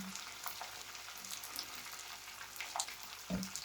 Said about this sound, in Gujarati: તડકો ફ્રાય થાય સારી રીતે